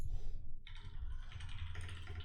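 Rapid clicking of keys on a computer keyboard, close and continuous with irregular bursts of keystrokes over a low background hum.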